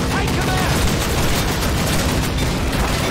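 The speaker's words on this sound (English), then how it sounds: "But we are shooting." Dense, sustained gunfire from a Call of Duty battle, a continuous loud barrage of overlapping shots with no pause across the few seconds.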